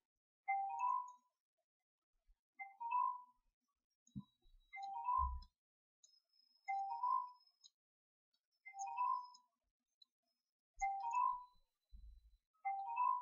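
A mobile phone rings in a home kitchen, a repeating electronic chime melody sounding about every two seconds, with faint clinks and bumps between rings and no talking.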